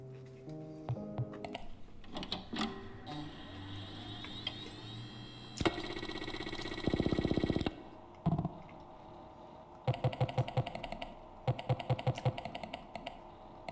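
Computer keyboard keys clatter in uneven bursts of rapid clicks with short pauses between, near and fairly crisp over a faint electronic hum.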